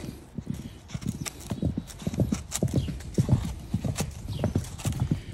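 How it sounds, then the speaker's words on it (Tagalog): A horse walks nearby, its hooves clip-clopping in a steady, close, fairly loud rhythm that carries on throughout, with no voices. "may kabayo sa likod ko"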